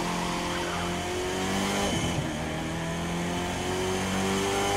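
Chevrolet Camaro ZL1 in the racing game The Crew 2, its engine droning loud and steady with rising revs, tire squeal and a brief skid, no talk.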